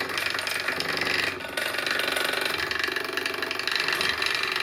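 A hoverboard hub motor fitted with two rows of magnets, rigged as a room heater, runs at high speed, producing a steady, loud mechanical whir and rattle with dense broadband noise and one brief dip partway through.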